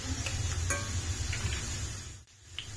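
Garlic, ginger and green chillies fry in a pan while being stirred for a grape pickle. A steady, close sizzle runs throughout with a few light utensil clicks, then dips briefly before resuming.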